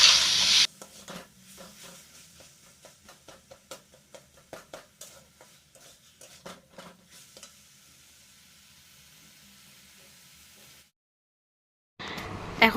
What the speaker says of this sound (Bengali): এখন আমি আরেকটু ভালো করে নাড়াচাড়া করে জল দিয়ে দেবো